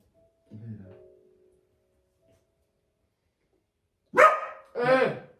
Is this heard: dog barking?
yes